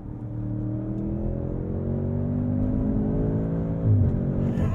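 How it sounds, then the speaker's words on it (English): A 2022 Audi S8 L engine revs steadily higher from the driver's seat under manual paddle shifting, then a quick downshift near the end brings a sudden throaty blip. The drone is loud and continuous, with no voices. "Fierce acceleration. Little delay in the downshift."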